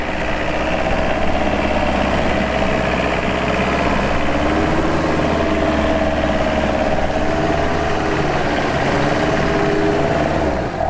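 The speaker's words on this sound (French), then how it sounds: "fais bien monter le moteur dans les tours" An off-road vehicle stuck in sand runs its engine steadily and loudly at high revs throughout, a continuous mid-range drone with rising and falling tones, straining without pause.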